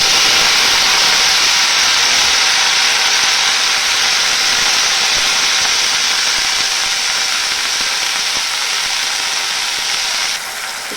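Vegetables hit hot oil with garlic in a home kitchen pan, giving a loud, steady hissing sizzle that runs continuously and eases slightly just before the end, with no talking.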